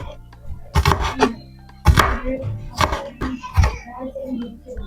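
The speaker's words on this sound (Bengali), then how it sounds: "সবগুলো একসাথ করে এভাবে আমরা কিউব সাইজ করে কেটে নিব" Knife chopping vegetables into small cubes on a board, a few sharp close thuds and cuts in quick clusters with pauses between, a voice talking faintly underneath.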